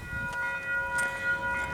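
Northbound train nearing a level crossing on the Kapiti Line at Pascoe Ave, likely a freight service, with steady crossing bells or alarm tones ringing over a low rumble and faint distant horn-like bursts.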